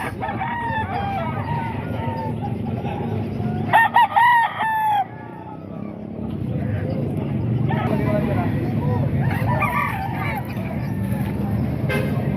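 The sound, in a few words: roosters crowing and clucking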